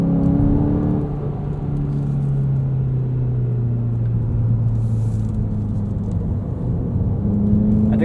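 A 2017 Volkswagen GTI Sport with a six-speed manual, 220 horsepower, drones steadily from the cabin while driving, its engine note rising and falling through smooth pitch sweeps over constant road rumble.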